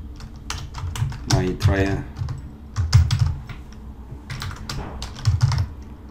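Fingers type a file name on a computer keyboard in quick bursts of crisp key clicks, close by, while a voice talks between and over them.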